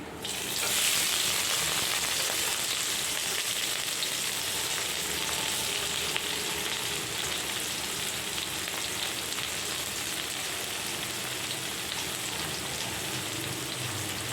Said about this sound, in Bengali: পেঁয়াজ কুচি লঙ্কা কুচি এবার একটু হালকা একটু ভাজবো